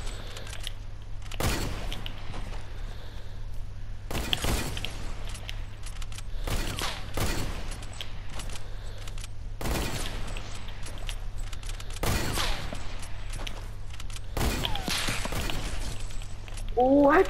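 Sniper rifle gunshots in the video game Fortnite: a series of sharp, widely spaced cracks, seven or eight shots over the stretch, above a steady low hum.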